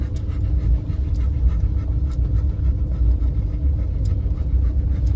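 Steady, rhythmic panting from a dog nearby at Redwood National and State Parks on a mild 67-degree day, quick repeated breaths over a low background rumble, with no talking.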